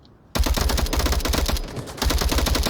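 Rapid gunfire from the VR shooter Onward during a competitive VRML league match, loud dense bursts of automatic shots with a brief lull before resuming, no talking.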